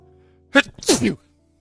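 A single sharp sneeze erupts close to the microphone during a tabletop role-playing game session: a quick breathy intake, then an explosive burst in an otherwise quiet room.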